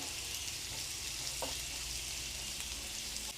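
Onions for a horse gram thoran fry steadily in a pan with a constant close sizzling hiss, no voices, only faint small crackles rising over the even bed of frying.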